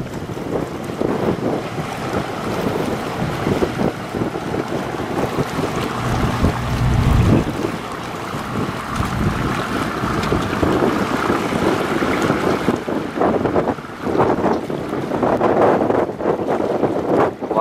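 Fishing net boats motor into the Duong Dong estuary on open water, a steady broadband engine and wash roar carrying strong wind buffeting on the microphone, with waves slapping and a louder surge midway.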